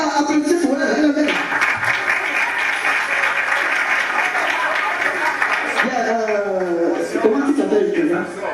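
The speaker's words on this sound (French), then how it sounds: "applaudissez pour elle" Audience claps for a woman called up at a comedy show about malaria, a loud sustained burst of applause filling most of the moment, fading near the end as a voice speaks over it.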